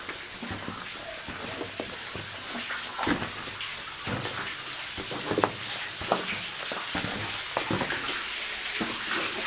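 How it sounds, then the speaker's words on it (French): Water trickling and splashing deep inside a mountain mine tunnel, a steady wet patter with scattered drips and small splashes, moderately loud and continuous with no talking. "J'entends de l'eau au fond là-bas aussi."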